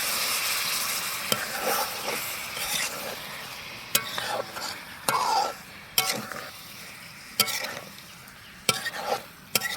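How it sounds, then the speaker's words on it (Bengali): Chicken pieces are stirred and fried in a thick spice paste with oil, a steady sizzle running under repeated sharp scrapes and clinks of a spoon against the pan, close up. "এখন মশলার মধ্যে মাছটাকে কষিয়ে নেব।"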